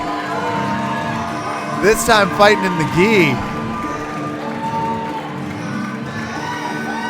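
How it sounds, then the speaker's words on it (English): Crowd cheering and shouting at a professional jiu-jitsu gi event rises into excited yells and whoops for a fighter, swelling loudly for a couple of seconds under a commentator's voice before settling back into a murmur. "You can hear the crowd starting to go crazy for the Pirate."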